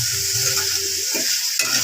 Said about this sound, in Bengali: লবণটা দিয়ে এবার আমি কিছুক্ষণ ভাজা ভাজা করব